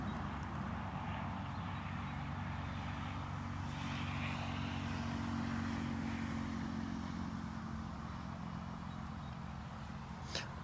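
A Titan Airways A321 airliner at Newcastle Airport, heard as a steady distant jet engine roar with a low rumbling hum, constant and fairly faint throughout.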